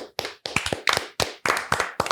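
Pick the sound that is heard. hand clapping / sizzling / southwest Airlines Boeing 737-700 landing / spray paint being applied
hand clapping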